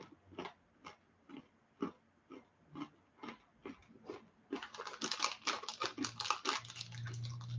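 Close crunchy chewing of peanut brittle, first as evenly spaced sharp bites, then becoming denser and louder, with a steady low hum rising near the end.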